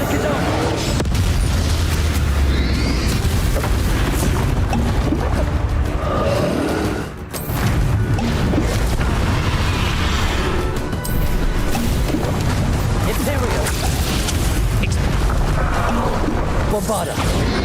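Confringo fire-blast spells in the Hogwarts Legacy game, a dense loud stretch of repeated booming explosions and crashes with game combat noise and voices, briefly dipping midway.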